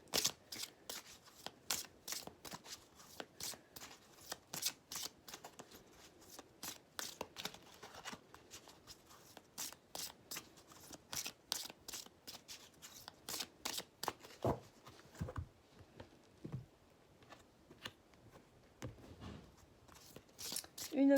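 Tarot cards riffled and shuffled by hand in quick, repeated bursts of crisp flicking, close and fairly loud, thinning out toward the end as single cards are drawn and laid down.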